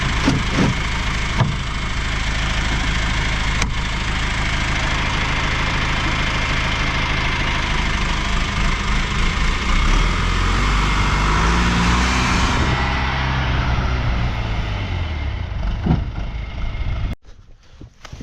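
A farm tractor engine rumbles at a steady idle, loud and close, holding an even drone before a shift in tone near the end, then cuts off abruptly into near silence.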